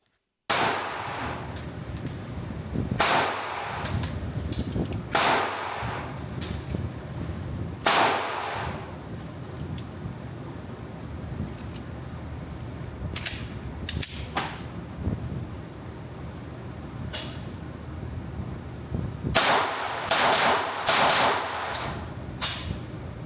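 A Staccato XC pistol is fired outdoors in a string of sharp, loud single shots and quick pairs, each crack ringing out with spaced pauses between.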